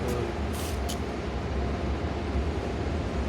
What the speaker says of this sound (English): Oh, there's a train over there.